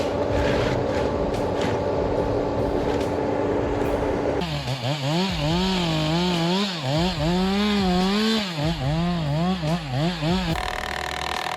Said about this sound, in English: Saws and cutting machines are used to divide the logs into smaller sections